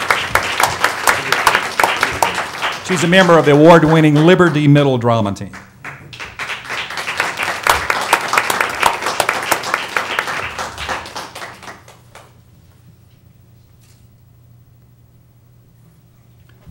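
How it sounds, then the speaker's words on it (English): At a school board meeting, an audience applauds a middle school drama student with dense rhythmic clapping that swells, briefly gives way to a spoken announcement, then resumes before tapering into quiet hum. "Let us applaud you for your work."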